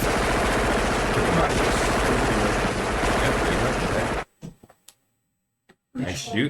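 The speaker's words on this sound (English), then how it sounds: "So you're gonna unload with your minigun." Minigun in a tabletop role-playing game session, unleashing a loud, continuous roar of rapid gunfire for about four seconds, then cutting abruptly to silence with a few scattered faint clicks before voices return.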